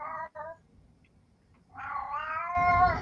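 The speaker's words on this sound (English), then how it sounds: "That's my cat." A pet cat meows close by, a short cry, a pause, then a longer drawn-out yowl that rises and holds, heard indoors with faint room noise.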